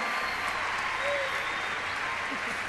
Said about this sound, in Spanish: un aplauso para Mel y para Carla